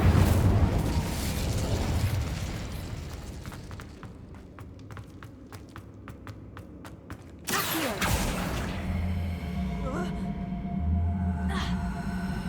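An Incendio fire spell cast in Hogwarts Legacy bursts out as a sudden whooshing blast partway through, with rumbling, crackling aftermath trailing off under game ambience and a voice.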